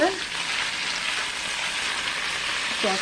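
Nasi goreng fries in a pan with lemongrass and bamboo shoots, giving a steady, close, broadband sizzle that runs unbroken, with brief faint stirring sounds at the start and end.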